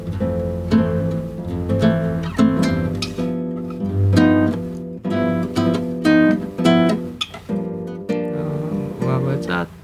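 Nylon-string style bossa nova guitar groove on the A section of a song, thumb bass and plucked finger chords in a syncopated pattern at tempo, close and steady with no talk.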